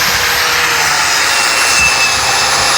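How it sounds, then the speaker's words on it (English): An angle grinder fitted with a wire brush cleans a Corvair axle, a loud continuous high-pitched whirring roar that holds steady for the whole moment. "I'll clean that with a wire brush. Two hands on a grinder is better."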